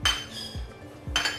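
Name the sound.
adding nuts to butter and mixing in a pan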